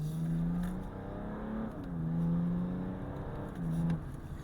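A tuned BMW F30 330d diesel saloon, producing over 800 Nm of torque, accelerating hard in Sport Plus mode from about 40 mph, with a steady engine drone that rises through the gears and a loud in-cabin tone.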